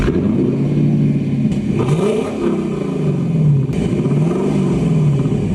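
A 2025 BMW M8 Competition engine revs close by, its deep growl rising and falling in repeated swells over a steady rumble.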